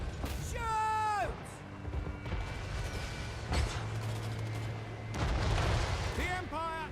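Volleys of gunfire from massed units in a Total War: Warhammer III battle crack out in a couple of broad bursts over a steady rumbling battlefield bed, with voices talking over the action.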